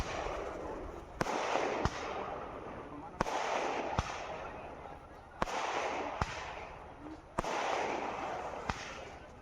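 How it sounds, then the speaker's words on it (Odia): Firecrackers burst at a Ram Navami celebration: about five sharp cracks come at intervals of roughly two seconds, each followed by a swell of crowd noise and voices, with a steady, busy outdoor din throughout. "ବାଣ ଫୁଟିଲା"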